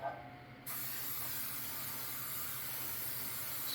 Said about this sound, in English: So what we'll do is we'll spray our pan. We just use regular cooking spray.